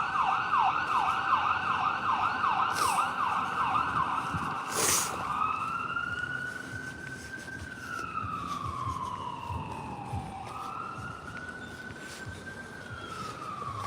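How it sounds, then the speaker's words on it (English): A loud emergency vehicle siren in Washington, D.C. rapidly yelps, then switches to a slow wailing rise and fall, with traffic noise and a brief sharp bang. "Wow, very loud siren here."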